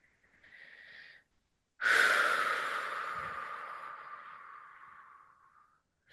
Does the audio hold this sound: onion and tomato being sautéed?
no